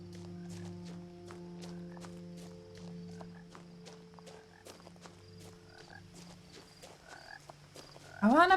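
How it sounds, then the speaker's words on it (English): Frogs croak in What Remains of Edith Finch, faint repeated clicks and croaks over a steady low ambient hum, ending in a brief louder rising call. "I want to pet a frog."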